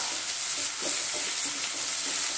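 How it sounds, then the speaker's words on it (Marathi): Finely chopped onion sautés in hot oil in a pan, giving a steady bright sizzle with a few soft scrapes from stirring. The sound is close and even, with no talking. "कांदा परतून घेऊया।"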